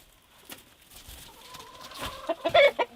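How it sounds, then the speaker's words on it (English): Chickens cluck nearby at a remote Alaskan cabin in short, bursting notes that grow louder and more frequent toward the end, over a quiet background. "The chickens have been laying extra early this year."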